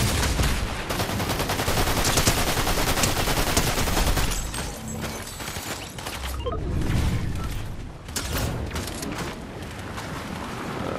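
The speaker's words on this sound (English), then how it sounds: "I think it's just the AI shooting at me now." Dense, loud automatic gunfire from computer-controlled enemies in Fortnite, a continuous rattle of rapid shots with bursts and brief lulls, filling the whole stretch with no talking.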